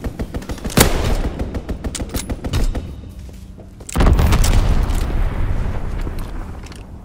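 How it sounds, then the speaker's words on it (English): A fighter plane makes a strafing run in Call of Duty WWII, with rapid machine-gun fire and heavy booms rolling together. The barrage is loud and close, and it swells again after a brief lull. "Fighter pilot inbound, strafing the target."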